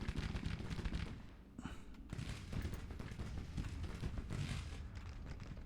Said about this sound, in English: Just start firing.